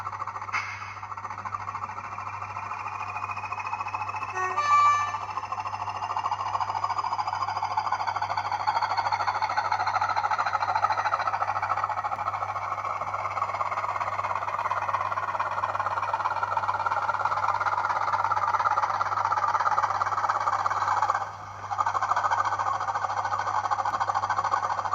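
A model class 08 shunter locomotive on a layout starting up and running, with a steady low electric motor hum and faint whine, continuous and moderately loud, a brief squeal early on.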